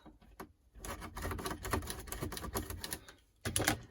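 Blade cutting through Christmas wreath material, a rapid crackly rasping and snipping that swells and fades over a few seconds, close and fairly quiet, with no talking.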